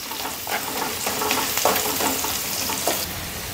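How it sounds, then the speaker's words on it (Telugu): Onions frying in a pan for a cauliflower curry with cashews and sesame, with curry leaves in the oil: a steady close sizzle broken by several scraping stirs, with no voices. "ఇది ఉల్లిపాయ వేగిందండి"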